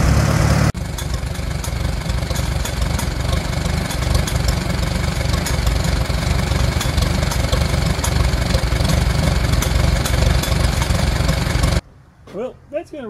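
A 1945 Farmall A tractor engine with a rebuilt Zenith carburetor runs steadily at close range, a loud, even idle lasting about twelve seconds before cutting off abruptly, with a brief voice afterward.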